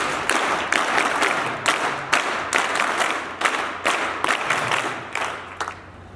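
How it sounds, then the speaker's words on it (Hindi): Sustained applause from an assembled crowd at an Arya Veer Dal gathering at Gurukul Kartarpur, dense steady clapping with rhythmic surges throughout, fairly close and loud, with no talking over it. "उनका हम जोरदार तालियों से वीर का स्वागत करेंगे"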